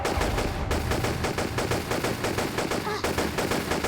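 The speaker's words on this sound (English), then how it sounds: "now I'm shooting the orb again" Rapid, continuous gunfire in a Tomb Raider custom level as a gun is fired at an orb. The shots are loud, fast and repeated, forming a dense rattling stream with no gaps.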